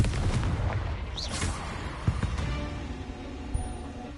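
A Confringo blasting spell erupts in the Hogwarts Legacy game, giving a few dull booms and rumbling impacts at moderate loudness amid game sounds.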